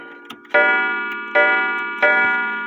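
A 1916 William L. Gilbert mantle clock strikes its gong three times, each ringing tone sounding loud and close before decaying slowly into the next strike.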